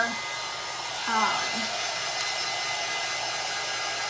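A hair dryer blows steadily at close range over paint on a galvanized metal tray, a loud continuous whoosh with a slight shift as it is moved around.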